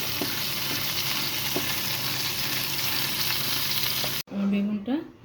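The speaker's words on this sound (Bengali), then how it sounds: "বেগুনটা আমি ভাজা শুরু করছি" Eggplant slices fry in hot oil for a crispy Bengali begun bhaja, giving a steady close sizzle that runs for about four seconds and then cuts off sharply, with a brief voice after the break.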